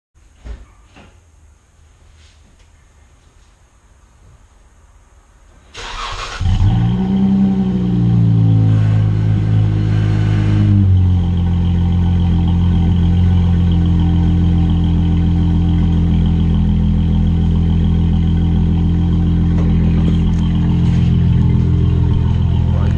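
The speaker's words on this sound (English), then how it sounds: "I'll turn on the car now" A Dodge Charger engine cranks at about six seconds, catches with a loud rising rev, then settles into a steady, loud, close idle that runs for the rest of the clip after a quiet interior lead-in.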